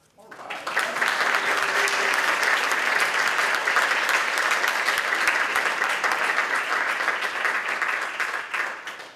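An audience breaks into sustained applause welcoming lecturer Jana La Brasca to the podium, a dense, steady wash of clapping that swells in quickly and holds for several seconds before tapering off.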